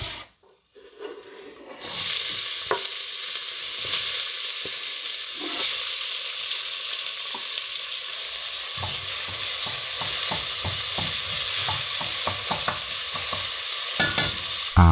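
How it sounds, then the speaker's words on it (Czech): Chopped onion sautés in lard in a pot on a cooker, making a steady close sizzle while a utensil scrapes and stirs in frequent short strokes. "na sádle nechte spěnit cibulku"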